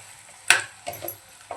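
Kadai masala chicken being stirred in a kadai, with a sharp scrape of the spoon followed by softer scraping strokes and a faint sizzle underneath, close and fairly quiet.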